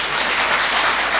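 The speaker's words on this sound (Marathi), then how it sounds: "टाळी वाजव एकदा." An audience at a devotional sermon claps together in a dense, steady burst of applause that is loud and continuous, with no talk over it.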